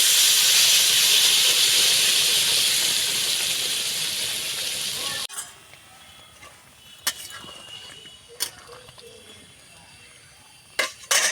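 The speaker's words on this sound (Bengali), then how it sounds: "গরম জল দিয়ে দিচ্ছি।" Hot water poured into a pan of fried soybean curry hisses loudly and steadily for about five seconds, then cuts off, followed by a few faint clinks and soft bubbling.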